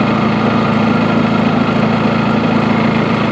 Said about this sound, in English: Tractor runs at 160 once it warms up.